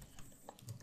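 Quiet typing on a computer keyboard while entering code: a quick run of soft key taps, close by and alone.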